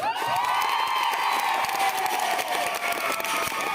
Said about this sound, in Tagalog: pwede na kayo pumalakpak sa may gusto ninyo